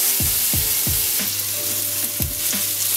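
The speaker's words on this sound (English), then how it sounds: "the reason we cook the pancetta first is because there's quite a bit of fat that comes out" Pancetta and onions frying in a pan, a steady close sizzle with a few scraping stirs of a utensil against the pan.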